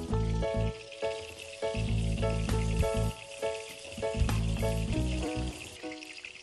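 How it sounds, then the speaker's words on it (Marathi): Chopped onion sautés in hot oil with a little salt, sizzling steadily in the pan with repeated bursts of crackle as it is stirred, with no talk. "तेल तापल्यानंतर आपण ह्याच्यामध्ये टाकून घेऊ कांदा, चांगला परतून घेऊ आपण त्याला."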